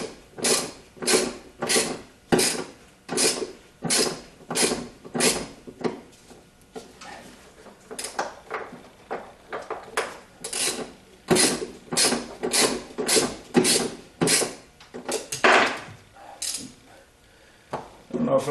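A hand ratchet wrench loosening the battery clamp bolt on a Jeep Wrangler, rapid repeated clicking bursts in a steady back-and-forth rhythm, loud and close, with short pauses between strokes.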